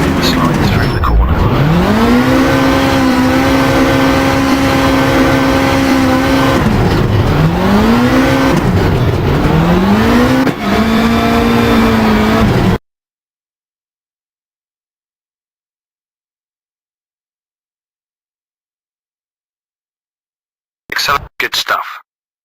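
A rally car in Richard Burns Rally revs hard and accelerates through second gear toward about 60, then power slides through a gravel corner, its engine loud and steady with rising and falling pitch, followed by silence and a brief burst.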